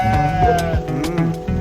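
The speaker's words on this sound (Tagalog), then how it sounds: "Dami palang tupa." Several sheep bleat in quick, wavering calls close by at a resort farm area, overlapping one another in a short burst.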